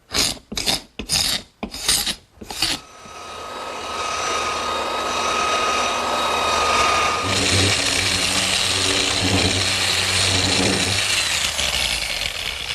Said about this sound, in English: They've had sanders like this in the auto body business for years, run by Air, random orbit sanders, which give you a perfectly smooth, swirl-free finish.